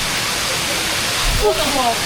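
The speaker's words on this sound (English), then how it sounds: "So much water. Waterfall." Heavy rain pours in Yogyakarta, Indonesia, where water streams down outdoor stairs like a waterfall, a loud, constant rushing hiss close by, with brief voices talking over it near the end.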